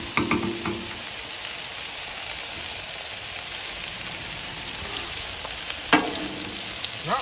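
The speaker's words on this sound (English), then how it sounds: "Now, I'm going to drop my onions." Onions sizzle on a Blackstone flat-top griddle for a smash burger, a steady close hiss with a few scraping stirs from a spatula now and then.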